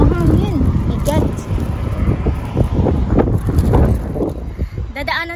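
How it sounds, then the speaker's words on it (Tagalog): Strong outdoor wind at night buffets the microphone with a continuous low roar and gusty rumbles, while a person speaks briefly near the start and end. "Mahangin."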